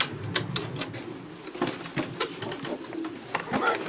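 Pigeons coo in a loft where pigeons are kept for racing, with low soft cooing under a steady mix of tapping, shuffling and fluttering over four seconds.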